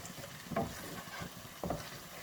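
Homemade khoya roasts in a pan for lauki halwa, a quiet low sizzle with two distinct scraping strokes of a spoon stirring it, close by and without talk.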